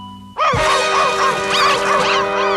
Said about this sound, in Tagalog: Naku po, yung tuta!